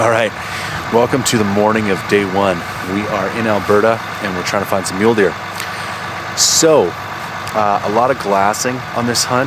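Pickup trucks idle in the background on an early-morning mule deer hunt in Alberta, a low steady engine drone running continuously beneath a man's close, constant talking.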